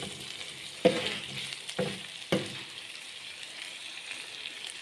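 Chicken tikka boti pieces sizzling and frying on a flat tawa griddle, a steady low crackle broken by a few sharp clatters as the pieces are turned, no voices.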